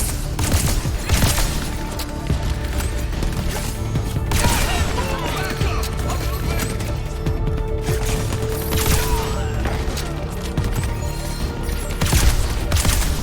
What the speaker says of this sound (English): Looking up the specs for that plasma rifle. It is straight up sci-fi weaponry.